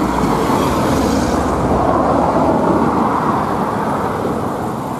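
A car on a road in Engels, passing close by with a steady, loud broadband rush of tyres and engine that slowly fades toward the end, with no talking.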